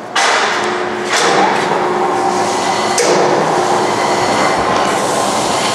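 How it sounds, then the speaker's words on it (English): Model 480DHD saws cut through plastic IBC bottles in a steady, loud, dense grinding roar with brief sharp bursts near the start, running continuously without talk. "Would you turn the saws on, please?"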